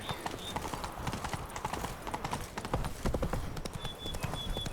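Horse hooves clip-clop steadily on a town road in The Witcher 3 game, several overlapping hoofbeats at a walking pace, close and fairly clear amid soft game ambience, with faint voices and a brief whinny-like tone.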